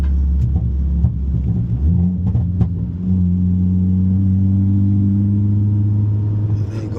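Deep, steady exhaust rumble from a Hyundai Elantra N running a Whoosh Motorsports 4-inch to 3.5 downpipe, 3-inch mid pipe and custom 3-inch exhaust, loud and close with a held low drone that rises slightly in pitch.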